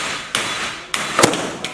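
A big Harbor Freight hammer striking metal in a shop, three sharp, loud blows spaced apart, the third a rapid double hit, with no talking.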